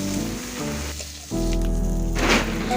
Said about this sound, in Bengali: দেখো পেঁয়াজ লঙ্কাটা ভাজা হয়ে গেছে